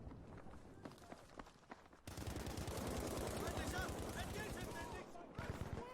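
A Lewis gun fires in Battlefield V, with a dense stretch of rapid, loud automatic fire in the middle, lighter shots and movement before and after, and game ambience throughout.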